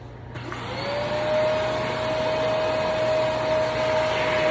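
Vacuum cleaner drawing up water from a faulty dishwasher, starting with a brief click and rising into a loud, steady motor whine with a high tone, close and alone.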